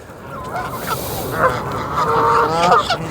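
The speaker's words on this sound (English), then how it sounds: "I can't get over how many Canada geese there is." A flock of Canada geese on a park lake honks loudly and close by, the calls overlapping in a continuous noisy chorus.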